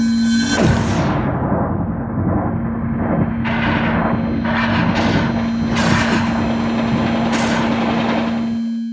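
A layered Expecto Patronum spell effect builds from a sharp bright burst into a dense roaring wash with a steady sustained hum underneath and several rising whooshing swells, loud and continuous throughout.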